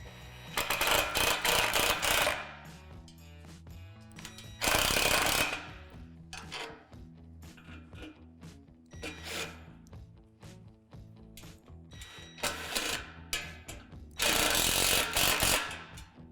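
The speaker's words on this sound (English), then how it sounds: "And then tighten this bolt." Tightening bolts on a Lifetime Double Adventure Tower playset gives repeated bursts of ratcheting, clicking mechanical noise in several loud runs with quieter gaps between them, close by and with no talking.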